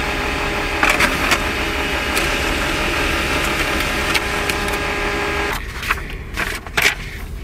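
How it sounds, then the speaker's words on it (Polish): A small printer prints a document inside a camper van, a steady mechanical whir with scattered clicks, then a shift to sparser clatter near the end. "Posiadanie drukarki w kamperze jest bardzo przydatne."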